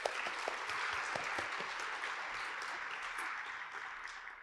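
An audience at a Lake Oswego Reads author event gives a sustained round of applause. The dense, even clapping stays at a steady level throughout and is heard alone, with no speech.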